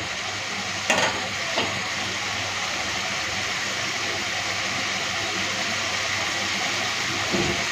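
Masala paste frying in a pan for egg khichuri gives a steady, even sizzle across the whole stretch, with a couple of brief clinks or stirring knocks near the start.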